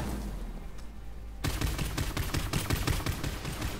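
Rapid bursts of gunfire from a Jacobs crank-action rifle in the game Borderlands 3 start abruptly after a quiet stretch, then rattle on as a dense, fast, close volley of sharp shots.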